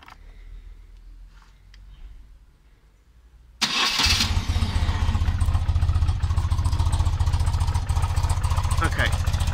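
A 1995 BMW R100RT boxer-twin engine cranks briefly and catches, then settles into a loud, steady, throbbing idle close by after a quieter stretch with a voice speaking.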